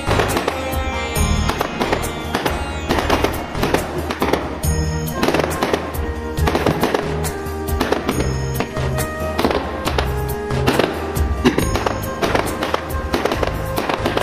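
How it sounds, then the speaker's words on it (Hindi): An anar fountain firework burns during Diwali, giving off a loud, dense crackling and sputtering hiss that runs unbroken throughout. "विश्व का सबसे लंबा जलने वाला अनार, आज ही हम आपको दिखाएंगे"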